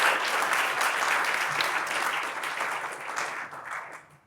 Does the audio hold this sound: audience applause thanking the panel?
yes